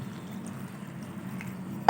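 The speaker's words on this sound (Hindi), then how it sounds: "ये तमाम चीज़ें इसमें ऐड करने के बाद मैं इसमें डालने वाली हूँ आधा गिलास पानी" Half a glass of water poured into a bowl of gram flour (besan) for onion pakora batter, a soft steady low wash of liquid running for about two seconds, ending with a brief sharper clink.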